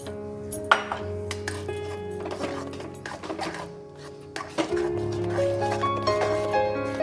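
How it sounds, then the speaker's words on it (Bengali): Salted lentils for mutton haleem stirred in a metal pot, with repeated clinks and scrapes of a spoon against the sides over a steady background hum. "ভালো করে নাড়িয়ে নিচ্ছি।"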